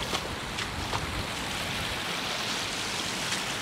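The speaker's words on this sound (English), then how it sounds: "I hope you can hear me over all this water" Rushing stream water at the Fairy Pools on the Isle of Skye, a constant close-up roar of broadband splashing and churning with no pauses throughout.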